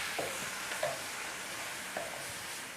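Leafy greens being stirred with turmeric powder in a frying pan, a soft steady sizzle with a few light scrapes of the spoon across the pan over about three seconds.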